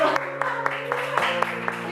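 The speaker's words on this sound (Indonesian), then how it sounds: "Tepuk tangan guys" Rhythmic clapping from a small group, sharp regular claps about four per second over a steady sustained tone, during a casual talk about mangrove conservation, with voices also present.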